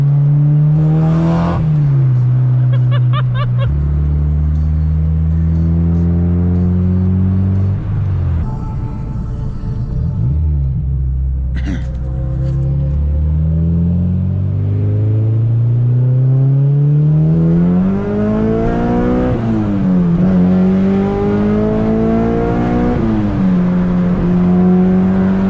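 A Honda Civic Si engine revs and pulls hard through several gear changes, rising in pitch and dropping at each shift, loud and continuous from inside the car for the whole stretch.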